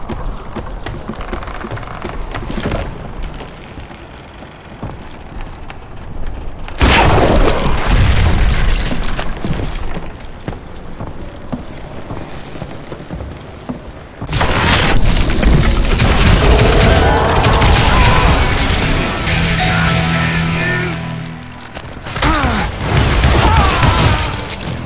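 Dynamite blasts in the Western shooter Call of Juarez: Gunslinger, several loud heavy booms with long rumbling tails, separated by quieter stretches of game noise and debris clatter.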